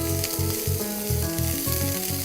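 Chopped green onion sizzles loudly in a hot pan for spring roll filling, a steady frying hiss with rhythmic pulses as it is stirred, close and continuous with no talking.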